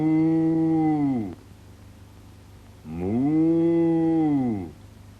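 Two long, loud cow moos with a falling, drawn-out tone, separated by a brief pause of quiet.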